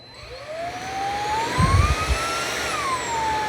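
Amazon Basics cordless vacuum cleaner running on its high setting over carpet, a steady whining motor hum with shifting pitch and a brief louder rumble partway through as it pushes across the pile, no voices.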